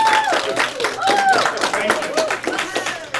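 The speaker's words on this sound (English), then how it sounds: "that was an opportunity for you all to clap for my kids right there." An audience claps for elementary school kids in a short burst of dense, lively applause that stays loud for a few seconds, with mixed crowd voices and cheering.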